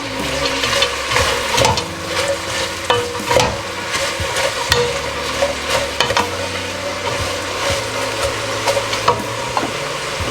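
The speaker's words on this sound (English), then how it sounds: "as I add some layers of onion, just sprinkle it in there." Onions sizzling loudly in a hot pan as they caramelize, a steady close crackle and hiss with scraping stirs and clinks throughout.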